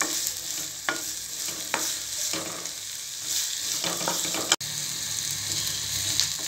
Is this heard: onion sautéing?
yes